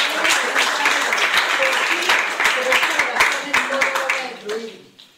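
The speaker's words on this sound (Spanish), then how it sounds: "Denle un aplauso a Jesús, mire qué bello." Congregation applause fills a church, a dense burst of many hands clapping with voices calling over it, loud at first and then tapering off toward the end.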